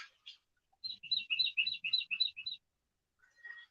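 Wild bird tweeting beside a country creek: a quick run of bright, high chirps for under two seconds, fairly close and clear, then a fainter short call in quiet outdoor air.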